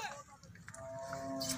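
A Nili water buffalo gives a single low, drawn-out moo on a farm, faint and a little distant, with quiet background noise and no clear speech.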